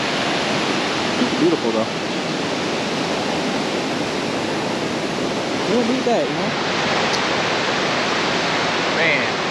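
Steady, loud roar of a waterfall in Kings Canyon National Park fills the whole scene as broadband rushing water, close by, with someone talking briefly over it.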